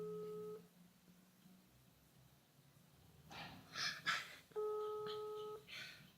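A steady electronic telephone tone sounds twice while a call to a friend rings. The first is a short beep at the start, and the second is a longer, clearer tone about a second long. Faint breathing and low room noise fill the gap between them.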